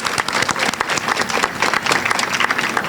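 Loud, close applause from an audience at a school heritage month celebration after an elementary student performance, with uneven individual claps standing out in the steady clatter.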